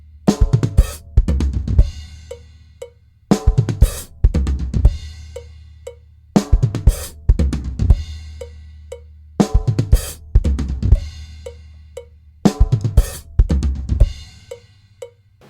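Drum kit playing a repeating fill pattern, five loud bursts of rapid tom and snare hits capped by crash cymbal accents, each followed by lighter ringing strokes, clear and close with no talking.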